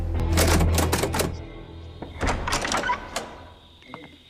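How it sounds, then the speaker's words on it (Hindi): A door is handled and opened, with a cluster of rapid knocks or rattling clacks followed by a second burst and a faint latch click at the end, close and fairly loud. "बहुत जल्दी दरवाजा खोल दिया है?"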